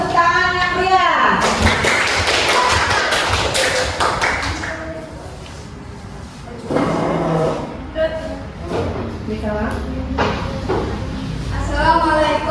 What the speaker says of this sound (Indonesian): Kepada kelompok 1 kita berikan tepuk tangan yang meriah.